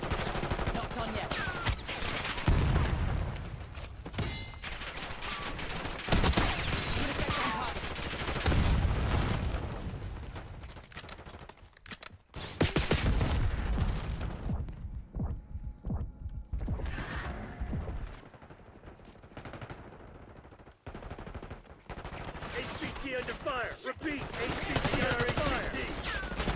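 Automatic gunfire and mechanical clatter from a Black Ops 6 multiplayer match, with repeated loud bursts and rattling shots in busy game audio across the whole stretch.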